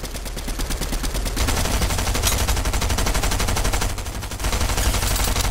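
Rapid automatic gunfire in the Fortnite Chapter 3 battle royale rattles in continuous loud bursts throughout, close and dense, with only a short dip in intensity before resuming.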